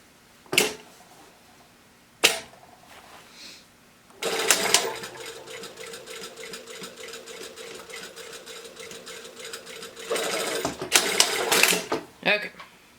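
A sewing machine runs a long basting stitch through skirt fabric, with a few sharp clicks, then a steady mechanical whirr for several seconds, a brief pause and a second burst before stopping.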